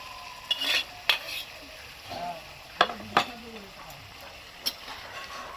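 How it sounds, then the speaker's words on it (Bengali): Fried cauliflower tipped into a pan for a cauliflower roast gives a few scattered scraping clinks and soft stirring knocks over a quiet background sizzle. "এবার আমি দিয়ে দিচ্ছি ফুলকপি ভাজাটা"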